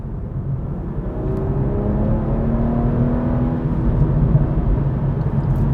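Toyota GR Supra engine with Active Sound Design disabled, a steady, low, natural rumble heard alone at even volume, with no talking.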